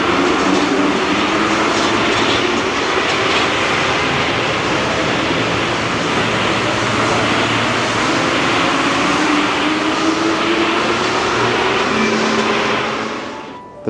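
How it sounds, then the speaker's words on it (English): A Paris Metro train rumbles and rattles loudly past on the platform, a continuous roar with clattering wheels that holds steady before dropping off sharply at the end. "there was a train that's leaving right now"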